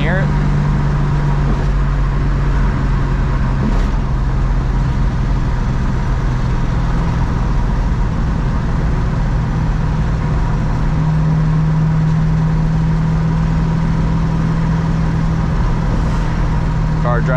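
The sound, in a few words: car driving on road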